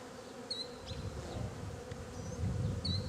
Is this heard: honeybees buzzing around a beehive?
yes